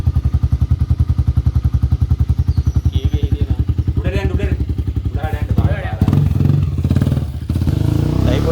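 A Kawasaki D-Tracker 250 motorcycle engine idles close by with a rapid, even thumping pulse, then gets rougher and is revved slightly, with people talking over it in places.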